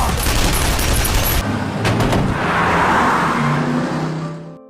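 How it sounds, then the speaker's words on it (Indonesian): A rapid burst of gunfire rattles loudly at a man, then a car roars and rushes past with a rumbling, booming wash of noise. "seorang pria keluar dengan memborbardir tembakan ke arah Tuan Shen."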